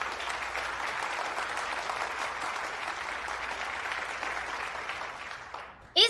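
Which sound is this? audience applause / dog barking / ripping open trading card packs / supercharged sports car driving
audience applause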